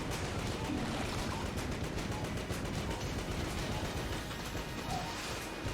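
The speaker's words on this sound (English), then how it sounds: "There's a lot of explosions happening." Explosions and rapid gunfire in the video game Enter the Gungeon, a dense, continuous clatter of bursts and blasts at a steady loud level, with no speech.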